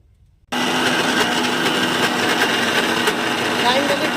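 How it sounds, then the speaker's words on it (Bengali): Mixer grinder grinding soaked lentils with green chili and cumin into a paste: a loud, steady high-pitched motor whir starts abruptly after half a second and runs on unbroken. "লঙ্কা জিরে দিয়ে এটা বেটে আনবো"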